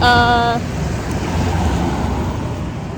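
Street traffic rolls past in town, a loud continuous rumble of passing cars with a brief tonal whine at the start and no talking over it.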